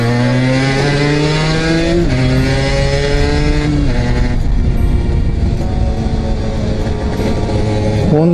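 A Honda NS-1 two-stroke 50cc motorcycle revs hard to high rpm, its buzzing engine note climbing through several gear changes with brief dips between shifts, loud and close throughout.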